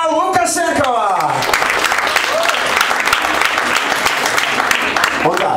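An audience applauds an actress introduced on stage at a live event. A voice rings out at the start, then dense, loud, continuous clapping follows.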